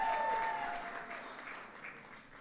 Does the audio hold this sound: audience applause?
yes